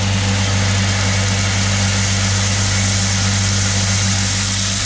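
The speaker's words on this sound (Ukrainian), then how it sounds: "Так працює моя дробілка." A 220V electric feed grinder runs steadily, crushing compound feed for piglets, with a loud continuous hum and whine on an unstable power supply.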